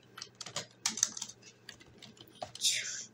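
Keys clatter on a computer keyboard as HTML code is typed, in close, irregular bursts of clicks with short pauses between them and a faint, quiet voice in the background.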